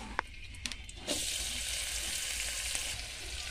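Chopped onions dropped into hot oil for spicy Maggi, a few light clinks followed by a sudden steady, close sizzle that holds without pause.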